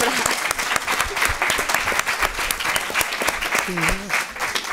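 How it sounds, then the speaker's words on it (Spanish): Audience applause at a journalism conference session, dense and steady clapping that carries through the whole stretch, with a voice briefly heard over it. "Un aplauso para, para Eusebio"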